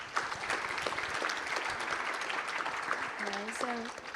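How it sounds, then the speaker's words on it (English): Conference audience at an ASEAN panel session gives a short round of applause, moderately loud and steady clapping, with a voice briefly heard over it near the end. "Please, round of applause for my panel."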